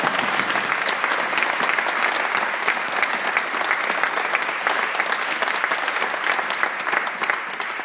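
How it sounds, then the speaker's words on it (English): Dense, sustained audience applause for an orchestra, many hands clapping at a steady loud level with no break. "can we just give all members of the orchestra a wonderful round of applause"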